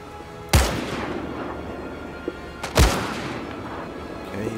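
Two sharp, loud rifle shots crack out about two seconds apart in Medal of Honor: Above and Beyond, each with a booming echoing tail, plus a faint click between them.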